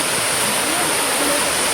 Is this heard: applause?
no